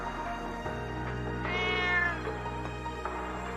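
A cat in the video game Trails of Cold Steel 3 meows once in a drawn-out, rising cry over a steady electronic hum and background music.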